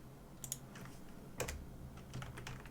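Scattered keystrokes on a computer keyboard in irregular small bursts, faint and close, over a quiet background hum with no talking.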